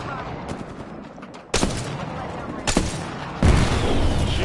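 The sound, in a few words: gunfire in a video game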